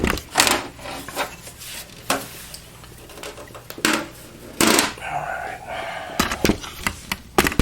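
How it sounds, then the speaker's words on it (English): A latch on a Dell Precision T5500 workstation is opened and the drive tray slid out: several close clicks, clunks and plastic-and-metal scrapes at uneven intervals, with faint background noise between them. "I'm just going to open this latch, and the thing comes right out."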